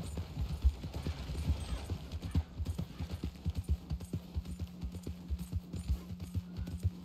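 Horse hooves clip-clopping in a video game, a quick, even trot of regular thuds repeating throughout, moderately close, over a faint steady hum with no talking.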